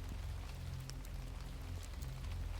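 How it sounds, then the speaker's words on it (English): Rain comes down in a continuous soft hiss of drops striking surfaces, holding an even level over a steady low rumble, with no talking. "The rain was still falling"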